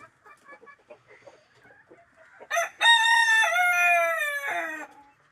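Native chickens outdoors, with soft low clucks followed by one loud, drawn-out rooster-like crow close by, with no talk.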